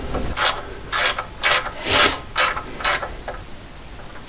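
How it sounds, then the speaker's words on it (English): A ratchet clicks through about seven short, loud bursts, evenly spaced, while tightening down the burner gasket on a boiler during servicing, each pass a crisp close mechanical rasp. "we've got to tighten the burner gasket down"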